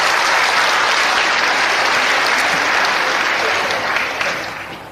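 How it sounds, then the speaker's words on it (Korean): Loud, sustained applause from a stand-up comedy audience fills the whole stretch, a dense crowd clapping that holds steady and then begins to thin out near the end. "여기에 공감하신 분 박수 한번 주시면 대단히 고맙겠습니다"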